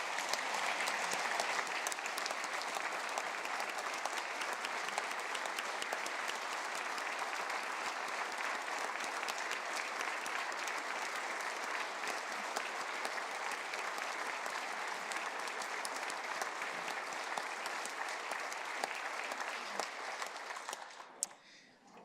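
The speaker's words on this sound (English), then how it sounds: "would you all please join me in giving Alyssa a round of applause?" A chamber audience at South Dakota's State of the State address gives Alyssa a long, steady round of applause, dense and even for about twenty seconds before tapering off at the end.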